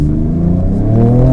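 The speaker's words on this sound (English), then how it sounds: "the Baja mode really revs everything up in a big way" A Ford Ranger Raptor in Baja off-road mode in an open field, its engine revving loud and close in a deep, rising rumble that climbs steadily in pitch over about a second.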